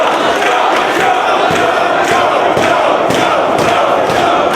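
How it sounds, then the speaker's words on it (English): Wrestling arena crowd at a Ring of Honor show chanting for Samoa Joe, loud rhythmic massed voices with regular clapping-like pulses, sustained and dense throughout. "The crowd wants Samoa Joe."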